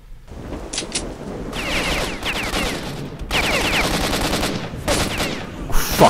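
Sustained automatic gunfire fills a S.T.A.L.K.E.R.: Shadow of Chernobyl firefight, loud and continuous rattling bursts layered with distant shots, with a brief lull midway.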